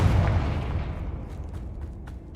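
Confringo fire spell blast in Hogwarts Legacy, a loud booming burst at the start that rolls into a long, fading rumble with faint crackles, no talk.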